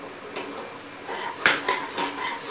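A spoon scrapes and clinks around a pan of reduced boiled milk with crushed cardamom as grated coconut is stirred in for coconut ladoo. The scraping is steady and close, with several sharper metallic knocks toward the end.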